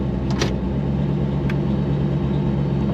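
A twin-turbo Hemi race car rumbles loudly and steadily at close range during a slow test lap, its deep engine drone constant with a couple of brief higher-pitched clicks.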